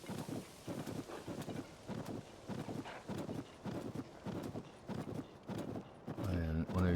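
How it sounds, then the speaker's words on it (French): Rhythmic hoofbeats of a golden horse in Zelda: Tears of the Kingdom clopping at a steady trot, moderately loud with a gusty wind-like rush behind them, ending as a voice starts speaking. "Donc on a récupéré un cheval doré."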